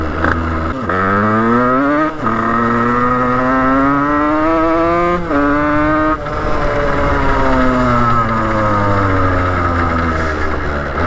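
A loud motorcycle engine with a Stage 6 77cc cast-iron kit revs up repeatedly, pitch climbing sharply then dropping between throttle blips, close and unbroken.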